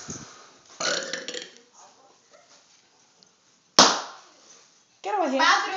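A child belches loudly in a home, with several burps spread out, including a sharp abrupt one mid-way and a longer rasping one at the end, amid voices talking and giggling between them.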